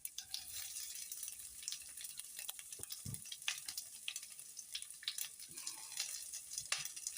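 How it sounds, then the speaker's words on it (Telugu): Onion pieces sizzle in a dried red chilli tempering for tomato rasam, a soft, steady crackle of hot oil with a few light stirring scrapes, faint and close. "ఇందులో ఉల్లిపాయ ముక్కలు వేసుకుంటున్నాను."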